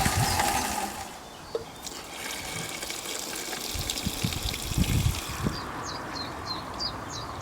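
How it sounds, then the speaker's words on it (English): Water from a garden water butt being poured into a small container pond, a steady broadband gush and splash running throughout with faint birdsong chirping in the background outdoors. "I'm going to use water from our water butt"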